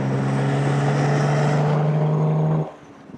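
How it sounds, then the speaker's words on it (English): An Alvis 4.3L Vanden Plas Tourer engine pulls under throttle with a strong steady drone and exhaust note, then the noise drops away sharply as the throttle is lifted near the end. "that connection between how far your foot goes down on the throttle and the noise both up front and behind"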